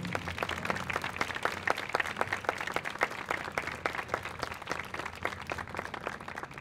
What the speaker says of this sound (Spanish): Otro aplauso a la Virgen.